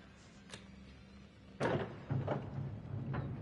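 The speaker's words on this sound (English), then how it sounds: "Oh, there's a trap door." Trap door in the horror video game Until Dawn swinging open: a soft click, then a heavy wooden thunk and creaking scrape followed by a second knock over a low rumbling background, with no talk.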